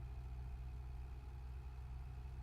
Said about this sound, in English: Mortal and Cash Cummins M11 engine sounds.